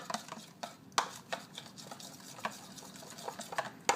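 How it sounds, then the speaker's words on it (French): A homemade hair lightening mix of honey and cinnamon is stirred in a bowl, giving quick close ticks and scrapes in a loose repeating rhythm, light and steady with a few sharper taps. "Je mélange."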